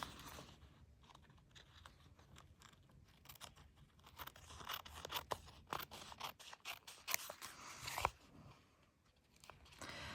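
Scissors trim an embossed envelope made from a paper dentist bib. Quiet, crisp snips and crunchy cuts come in irregular bursts, close up, with no talking.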